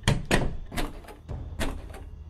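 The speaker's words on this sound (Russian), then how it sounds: "Ящики все закрываем." Wooden drawers being shut one after another during a break-in in the game Thief Simulator: about five dull thunks at an uneven pace, close and moderately loud, with no talk.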